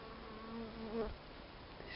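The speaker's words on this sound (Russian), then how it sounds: "а пчелы уже летают полностью" Bees buzz faintly nearby in winter, a soft droning hum that swells briefly as one passes close, over quiet background.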